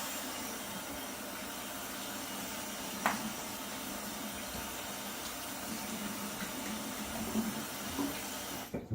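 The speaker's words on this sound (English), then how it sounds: "A little bit of a rinse." Water from a tap running steadily to rinse a Gillette Nacet razor, a soft continuous hiss and splash close by with a couple of faint clinks, no talk.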